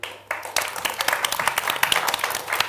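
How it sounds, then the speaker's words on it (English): Audience clapping at a panel session on zero carbon transport at COP26, starting after a brief quiet moment and continuing as steady, moderately loud applause from a seated crowd. "maybe show by round of applause, by which I mean when I say you clap"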